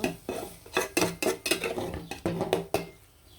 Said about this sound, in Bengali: মাংসগুলো দিয়ে দিলাম দিয়ে ভালো করে আদা দিয়ে কিন্তু ভেজে নিব